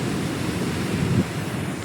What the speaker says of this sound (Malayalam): ഓ ഇതാണ് കേട്ടോ കടല്